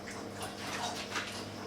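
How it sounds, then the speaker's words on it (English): Water poured into a pot of lentils from bottled water, a short steady splashing stream filling the pot, close and even throughout with no talking. "Add some water in."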